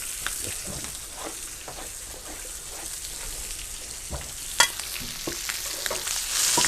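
Rack of lamb with rosemary searing in a hot pan, a steady low sizzle with scattered crackles and pops, one sharper clack near the middle, heard alone without talk.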